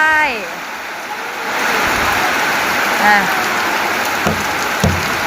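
Heavy rain falls steadily as a dense wash of noise in an outdoor fishing spot with rising water, with a few birdlike chirps and brief knocks on top.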